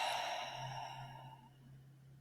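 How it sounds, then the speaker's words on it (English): A slow, soft breath in followed by a longer, audible exhale, quiet and close in a calm, still room with no talking. "take a slow breath in and a longer breath out"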